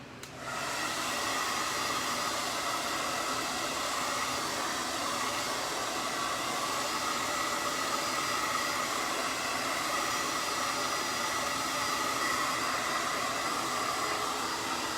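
A hair dryer blows steadily on freshly painted dotted flowers, a close, loud, continuous whooshing roar that holds unbroken from start to end with no voices.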